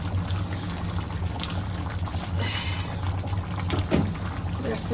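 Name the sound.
water being added to a chicken curry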